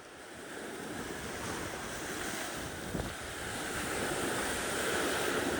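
Ocean surf rolls steadily onto a beach near high tide during a stormy cyclone, a continuous broad wash of breaking waves mixed with gusting wind noise on the microphone, building slightly louder toward the end with no voices.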